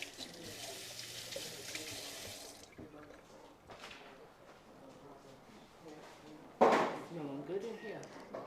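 Tap water running into a sink while food is rinsed during a cooking class making island rice and peas, a steady hiss that stops, then a louder splash of water near the end.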